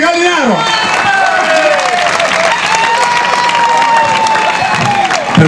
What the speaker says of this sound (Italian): Un saluto e un grande applauso per Antonio Presente Gallinaro.